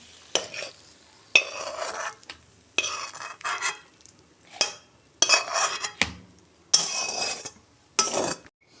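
Cooked red amaranth greens are tipped and scraped out of a pan, giving a series of separate close metallic scrapes and clanks of utensil on pan with short pauses between them.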